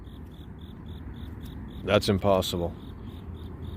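Regular high chirps from a cricket repeat steadily at a close, even pace, continuing through a short burst of a man's speech partway through.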